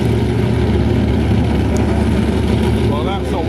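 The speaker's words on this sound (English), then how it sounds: "that's a wonderful sound of twin V10 Ilmore engines in the new Cougar boat" The twin V10 Ilmore engines of a Cougar powerboat rumble deeply and continuously at racing speed offshore, a dense low drone that carries under a voice talking.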